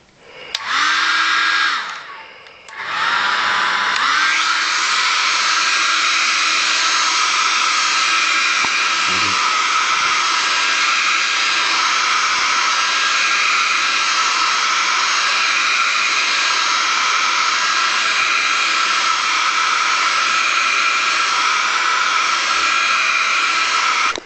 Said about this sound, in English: Done with 50 minutes with a hairdryer.